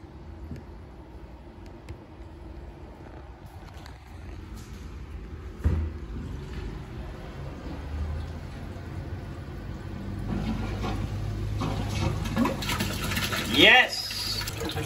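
A large CJ 9.0 pump forcing water through long runs of aquarium sump piping against high head pressure, heard as a steady rushing, gurgling flow that swells louder in the later seconds with splashing bursts near the end.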